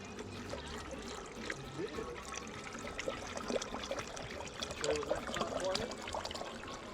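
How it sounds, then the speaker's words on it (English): Water pours and trickles steadily into a pot on a beach, a continuous splashing flow close by, with some faint background voices. "I'm gonna pour my water in here to get boiling."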